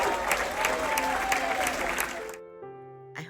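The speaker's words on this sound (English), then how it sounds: "applause for our international choir" Applause for an international choir aboard the Holland America Oosterdam at Christmas, a full crowd clapping loudly that stops abruptly, followed by sustained tones of music.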